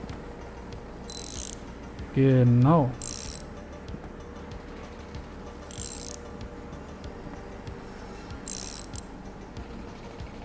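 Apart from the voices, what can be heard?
ratchet loosening screws in video game Bus Mechanic Simulator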